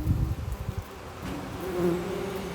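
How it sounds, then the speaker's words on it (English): Honeybees buzzing at a hive entrance, a close, continuous droning hum with louder fluttering bursts at the start, no voices. "You can see pollen on the bee on the left there, just about to go in."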